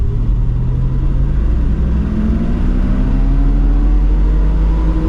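A 1970 Mercedes-Benz 280SE 3.5 Cabriolet downshifting while driving, a loud, steady engine rumble with rising and falling tones as revs change, heard from inside the car without talk.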